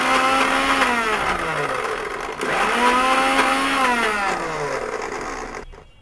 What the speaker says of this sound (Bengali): 4 ভাগের 1 কাপ পরিমাণ কর্নফ্লাওয়ার দিয়ে দিলাম এবং আবারও এটাকে ব্লেন্ড করব।